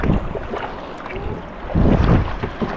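A fast boat crossing ocean waves, with steady wind and water rush broken by louder thumps and splashes as the hull hits swells, close and continuous.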